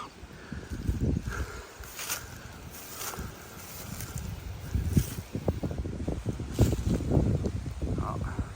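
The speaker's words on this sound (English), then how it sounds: "Getting windy and cold up here." Gusty wind buffets the microphone on a cold hillside while hunting, rumbling loud and uneven throughout with brief lulls between stronger gusts.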